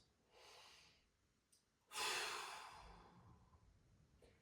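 Two deep breaths taken during a mobility stretch, the first a softer drawn inhale, the second a louder, longer breath with an audible exhale trailing off, close and alone without talk.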